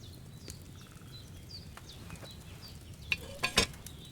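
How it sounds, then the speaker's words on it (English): Soft bubbling and faint simmering crackles of a cauldron boiling over a flame in Kingdom Come: Deliverance II, under a low hum, followed by a few sharper clinks near the end. "Hear that bubbling? It's boiling."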